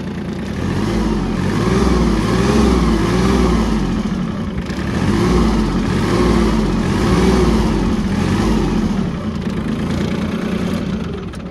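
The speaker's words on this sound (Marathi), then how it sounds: "हा आयडियल साऊंड आहे सिम्बा 30 HPचा" A New Holland Simba 30 HP diesel tractor engine idles in neutral with a loud, low, steady chugging throb that holds for the whole stretch.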